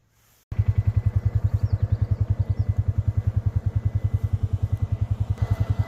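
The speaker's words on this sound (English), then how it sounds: "So gonna get on the mower, and I'll check back in." A riding lawn mower's small engine starts up abruptly after a quiet moment and runs with a fast, regular thumping pulse, loud and close, holding a steady idle-like rhythm through to the end.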